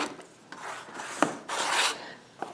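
A rotary cutter trims the edges of a quilt block on a cutting mat, giving short rasping swipes across the fabric with small clicks and knocks between them, close and quiet.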